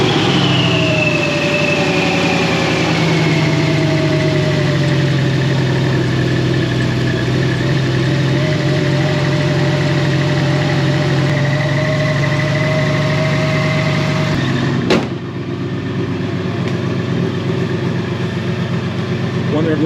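A cold-started Crown Vic with a 7.3L Godzilla V8 and a Whipple supercharger idles loudly and roughly, the pitch easing down as it settles, with a sharp knock near the end and voices now and then.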